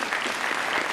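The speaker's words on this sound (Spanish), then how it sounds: "y un aplauso a ustedes, muchachos y muchachas de la Policía Nacional" A crowd at a Colombian National Police change-of-command ceremony applauds, giving a dense, steady wash of clapping that is loud and close for one second, with no speech over it.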